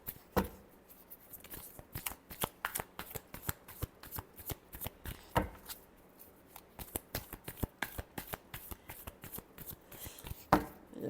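Tarot cards are shuffled by hand in a continuous run of crisp, papery riffles and snaps, some louder slaps standing out, close and clear with no talking.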